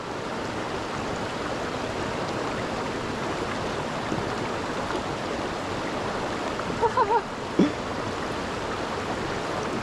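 Steady creek water rushing and burbling across the whole stretch, a continuous broadband wash with a few faint brief clicks near the end.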